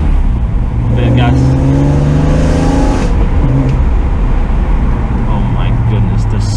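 A BMW M3 engine revs loudly and steadily close by, its pitch climbing and falling over several seconds.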